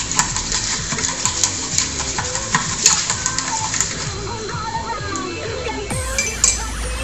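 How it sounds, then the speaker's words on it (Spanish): A spoon stirs sugar and lime in a glass while a caipirinha is being made, giving rapid clinking and scraping taps that repeat close up, with a voice talking over them. "Con una cuchara, desde el fondo, vamos a remover y notaremos cómo se van mezclando el azúcar y la lima."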